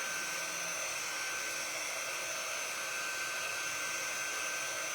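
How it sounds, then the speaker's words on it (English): Small craft heat tool blowing steadily to dry a transfer paste, a constant airy whir with a faint high whine running throughout, close and moderately quiet with no talking. "So this tool is a heat tool, but it doesn't get really, really hot"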